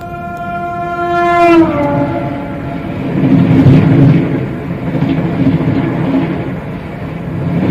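Vaishali Superfast express train passing at speed, a loud horn blast with a falling pitch opening the pass before giving way to a sustained rumbling roar of coaches that swells and stays steady to the end.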